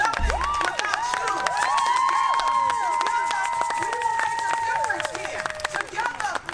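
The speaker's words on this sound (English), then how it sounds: "give yourselves a round of applause" A rally crowd at a reproductive-rights protest claps and cheers for itself, with sustained applause and scattered whoops and shouts from many people, loud and close, mixed with crowd chatter.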